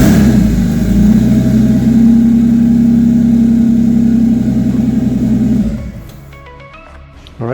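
Freshly installed engine in a JDM Toyota Supra fires up for the first time and revs hard, a loud steady mid-pitched drone holding for several seconds before cutting off abruptly to quieter background ticks and clatter.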